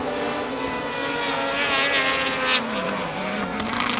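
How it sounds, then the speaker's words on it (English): A rallycross car's engine at Kymiring drones steadily and loudly as it heads down into turn 1, with one sharp pop or bang near the end over continuous engine roar. "Pop and bang with the motorised engine as they head down into turn 1."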